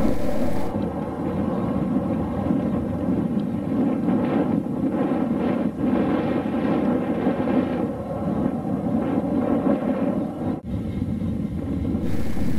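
Fouga 170 jet aircraft climbing away after takeoff, a steady, loud broadband roar of engine and airflow heard from inside the cockpit, continuous for the whole stretch with only slight dips.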